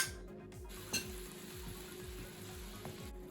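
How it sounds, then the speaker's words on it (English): Sesame chicken sauce simmers quietly in a wok over very low heat, giving a soft, steady sizzle with a rhythmic scraping pulse and one brief clink of utensil against the pan near the start. "So the sauce I will put in the wok with a very low heat."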